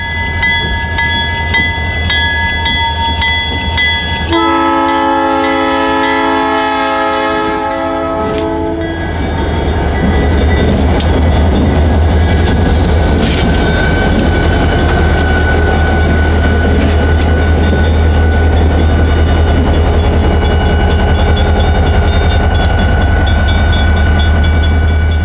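Grand Elk Railroad train no. 303 travelling the former Kalamazoo, Allegan and Grand Rapids Railroad main line, WATCO Michigan shortline: a loud steady locomotive rumble with a long multi-tone horn blast near the start, then continuous rolling wheel and rail noise.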